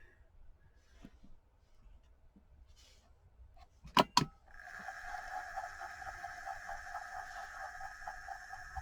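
An EEW 6.0 electric spinning wheel hums steadily at low volume once switched on, with a couple of sharp clicks just before the motor starts running.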